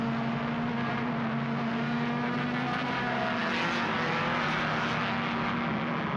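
Suzuki Esteem race cars accelerate hard through turn 5 of a racing circuit in a close contest, a steady loud engine roar with a droning pitch that holds for the whole stretch and never lets up.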